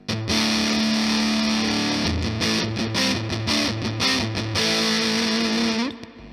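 Electric guitar played through a Black Arts Toneworks Pharaoh fuzz pedal, loud and saturated, with a sustained fuzzy note, then a run of choppy chords and another held note before cutting off.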